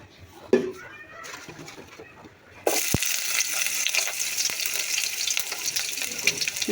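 Mustard oil goes into a pan to fry small fish; after a few quiet clicks and a voice, a loud crackling sizzle bursts in and continues strongly to the end.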